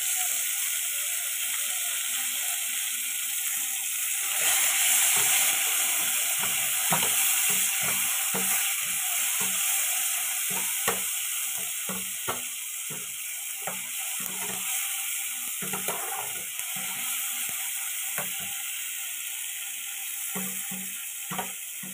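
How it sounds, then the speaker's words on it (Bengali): Chopped tomatoes fry in a pan for a vegetarian paneer dish, a steady hiss of sizzling beneath frequent rattling, scraping strokes of a spoon stirring them, continuous and close with no voices. "তারপর এর মধ্যে টমেটো কুচিগুলো দিয়ে দেবো, দিয়ে আবার ভালো করে নাড়তে থাকবো আমরা।"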